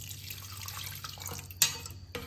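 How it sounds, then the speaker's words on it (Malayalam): Water is added to a pot of soup, with a light trickle and splashing, a couple of sharper splashes near the end, and a faint hum underneath. "കുറച്ചുകൂടെ വെള്ളം ഒഴിക്കാം."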